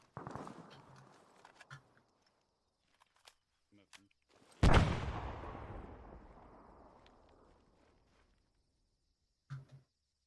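A grenade detonates in the ARMA 3 military game with a single loud, sharp blast whose rumbling tail fades over several seconds, following scattered earlier thumps and sounds of movement.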